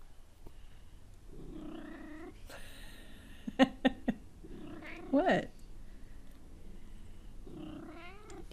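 A house cat gives several soft meows and chirping vocalizations, close and fairly quiet, spaced out between brief words from a person nearby.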